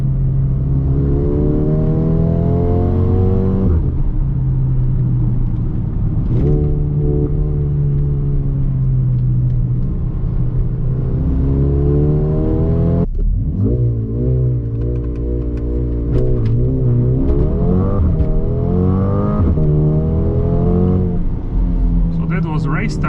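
A 2021 Mercedes GLB 35 AMG engine revs hard and pulls through rising gear sweeps during a launch control race start, loud and close throughout, with a brief drop at a shift midway.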